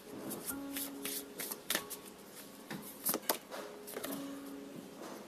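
Tarot cards shuffled and drawn by hand in a series of crisp riffling bursts and soft slides, close and fairly quiet, with short pauses between shuffles and no talking.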